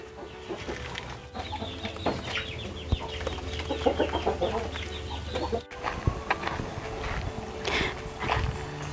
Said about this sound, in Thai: ตรงนี้เป็นโรงเรือนเลี้ยงไก่พื้นเมืองนะคะ ซึ่งมีไก่อยู่ประมาณ 25 ตัวค่ะ